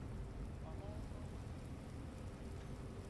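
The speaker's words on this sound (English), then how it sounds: "It's raining outside." Steady rain falls outside, a constant broadband hiss with dense low patter over a phone line, continuous and fairly quiet throughout with no clear speech.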